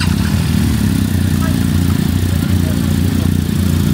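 A camera motorcycle, a BMW RT touring bike, runs at the Paris-Roubaix cycle race, its engine a loud, steady low drone close by, with constant rumble and no clear revving throughout.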